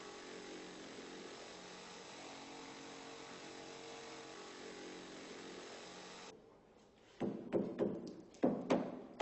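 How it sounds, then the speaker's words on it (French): A jigsaw cuts a rebate for a door frame into an aerated concrete block, giving a steady, sustained buzzing whine for several seconds before it stops, followed by a few loud knocks and thuds. "Après avoir tracé aux angles la profondeur de la feuillure, nous la découpons à la scie sauteuse."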